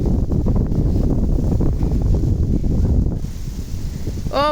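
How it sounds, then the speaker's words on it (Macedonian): Strong wind blows steadily and loudly across an outdoor spot high up in a wooden treehouse, a continuous rushing buffet that eases slightly near the end. "Како дува ветер."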